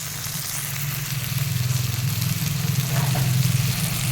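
Spice mix with onion and garlic frying in a pan for an egg dish with aubergine and potato, a steady close sizzle that swells slightly and holds, with a low constant hum beneath and no talking.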